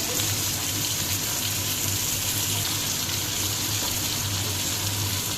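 Onion fries in a pan for mutton paya, giving a dense, even, loud sizzle that holds unchanged from start to finish without pauses or voices.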